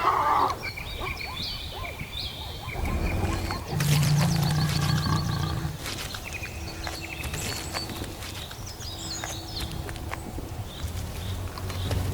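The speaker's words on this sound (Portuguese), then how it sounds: "Uma matilha de leões avançou sem esperar." A pride of lions roaring and snarling while attacking prey on an open steppe in the Okavango. Deep, rough growls rise and fall in bursts, loudest in the middle, over rustling and scuffling nearby.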